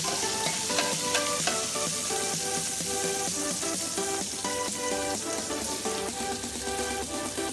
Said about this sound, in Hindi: अनियन ऐड करने के बाद हम इसको थोड़ा सा सॉटे कर लेंगे।